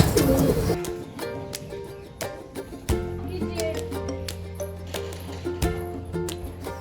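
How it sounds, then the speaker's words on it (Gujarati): Pigeons coo softly in a steady background murmur, with occasional wing flutters and small bursts of activity close by. "આપણે બધા કબૂતરને બહાર કાઢી લીધા છે."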